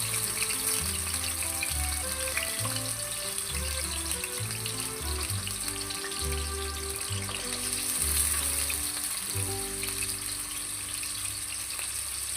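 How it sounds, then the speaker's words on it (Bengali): Taro (kochu mukhi) and potatoes fry in hot oil with a loud, continuous crackling sizzle, close up and steady with no talk, while a low background tone comes and goes underneath. "আমি কচুমুখী আলু তেলে ভালো করে ভেজে নেব।"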